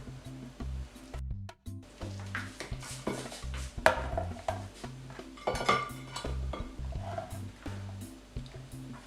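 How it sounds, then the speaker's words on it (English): Dishes and utensils clatter and clink repeatedly against a hard surface, with scrubbing and wet handling sounds close by. "I'll just clean the chopping board."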